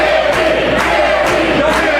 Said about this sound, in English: The audience now getting behind Timmy O'Connor, cheering, screaming his name.